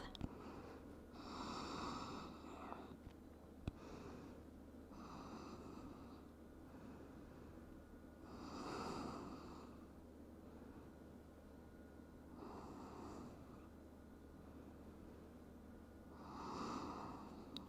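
Slow, deep yoga breaths during Ashtanga practice swell and fade in a regular cycle, roughly five or six airy inhales and exhales, close to the microphone and otherwise quiet.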